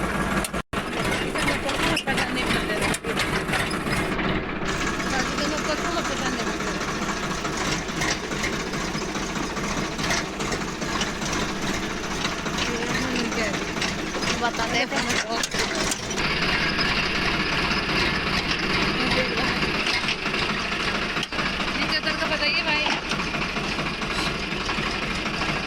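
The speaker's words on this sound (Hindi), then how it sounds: "ट्रैक्टर हमारा चल रहा है आगे आगे।" A farm tractor drives along a village road at night, its engine putting out a continuous close, loud mechanical chugging and rattling drone with a fast, even pulse and no speech.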